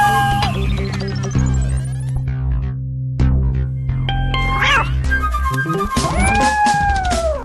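A cat meows in a cartoon amid a dense, loud mix of music and sound effects, its calls briefly rising through the busy backdrop.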